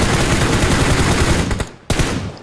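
Gunfire rings out in the mobile battle royale game BGMI: a dense, rapid run of loud automatic shots, then a brief lull and another sharp burst.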